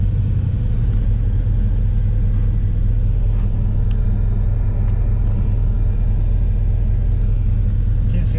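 A 1976 Corvette C3 on a test drive: a steady, loud low engine rumble and road drone fill the cabin throughout, with no clear revving peaks.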